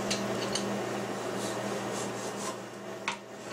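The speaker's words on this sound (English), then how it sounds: "Just peeling the skin off." A vegetable peeler draws across the skin of a kiwi fruit, giving soft, raspy scraping strokes in short irregular bursts over a steady low background hum.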